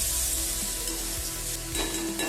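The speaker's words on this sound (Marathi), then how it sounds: "हे सुद्धा याच्यामध्ये टाकून आपल्याला छान असे परतवून घ्यायचे आहे" Finely chopped medium onions sautéing in a pan for chana masala, a dense steady sizzle with a low rumbling hum underneath, close and loud with no talk.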